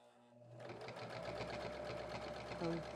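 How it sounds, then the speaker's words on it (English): A sewing machine stitches a fabric liner for a reusable feminine hygiene product, a steady rapid mechanical whir running continuously after a brief start, close and fairly loud, with a faint click near the end. "start sewing again."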